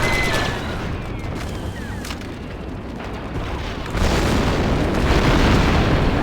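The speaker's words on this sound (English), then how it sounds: "The charge is set and ready to detonate." Explosive charge going off in the Star Wars Republic Commando video game, a heavy boom that swells into a loud, sustained rumble over ongoing battle noise.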